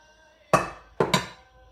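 A knife cuts the end off an onion on a board, giving three sharp, close chops: one single strike, then a quick pair, with no talk.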